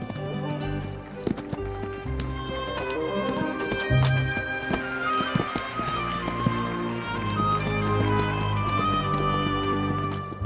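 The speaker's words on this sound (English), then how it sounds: "Horses naturally leap and kick when fighting." Horses performing classical airs above the ground, hooves clip-clopping and thudding steadily on the ground, with a neigh breaking through partway; a voice talks faintly over part of it.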